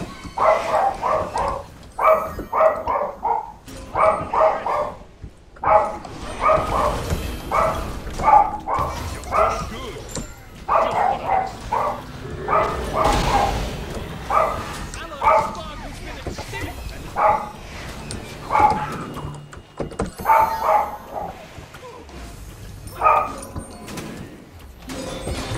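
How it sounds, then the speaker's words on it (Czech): Dogs bark in repeated bursts throughout, fairly loud and steady, mixed with someone talking at length and occasional background game noise. "Oni ty psi dneska nedají pokoj."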